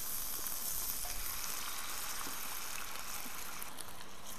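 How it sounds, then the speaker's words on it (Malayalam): Vinegar poured into a hot pan, a continuous loud hiss and crackling sizzle with faint stirring, heard alone and close up. "നമുക്ക് കുറച്ച് വിനെഗർ അങ്ങ് ഒഴിച്ചു കൊടുക്കാം"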